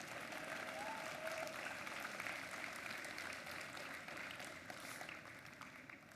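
An audience applauds mentors and coaches at the opening ceremony of a FIRST Tech Challenge state championship in Georgia, with steady, sustained clapping from a large crowd in a big hall that fades slightly toward the end.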